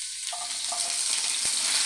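Ginger, garlic and green chilies sizzle steadily in a hot pan for a Kerala vendakka mappas curry, a dense, continuous frying crackle heard close and alone.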